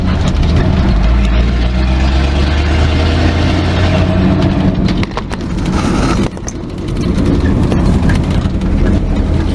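A 1959 Chevy Viking truck's engine runs loud and steady while driving, a constant low rumble with a dip in level midway before it builds again.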